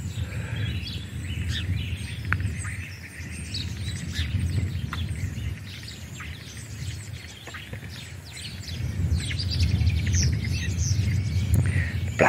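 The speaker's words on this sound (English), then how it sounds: "Blackbird chattering away in the background there" A blackbird and other garden birds sing and chatter steadily over a low background rumble, calls layered and moderately distant with no speech.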